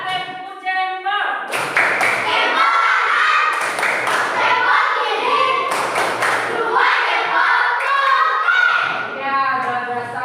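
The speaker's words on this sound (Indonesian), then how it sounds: "Ayo tepuk tangan, tepuk jempol." Classroom of children clapping in patterned rhythm, short bursts of hand claps alternating with a teacher's voice and children's chatter, close and moderately loud.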